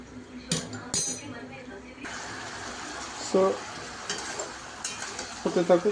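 Marinated local chicken frying in a wok under a low, steady sizzle, with occasional clinks of a utensil and a voice talking nearby.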